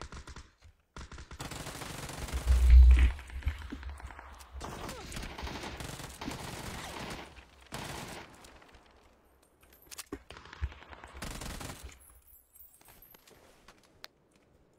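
Shooter video game gunfire: bursts of rapid automatic shots and scattered single cracks spread across a stretch of quieter game ambience, with one heavy, booming burst early on.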